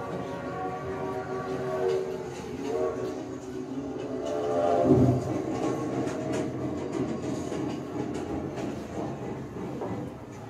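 Inside a passenger train car, a continuous low rumble of wheels on rails rolls on for about ten seconds, with faint rhythmic clatter and a slight swell midway.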